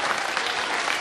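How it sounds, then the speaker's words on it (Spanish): A brief burst of dense, steady clapping from the crowd at a parish children's chocolatada in La Tinguiña, Ica, Peru, loud and continuous for the whole second. "Aplauso para la Caja Municipal de los Vistas"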